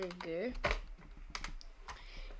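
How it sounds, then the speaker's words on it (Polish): Computer keyboard keys are tapped a few times, light clicks spread across the moment, while a person speaks Polish over them. "Ctrl C, znaczy klikamy Ctrl C"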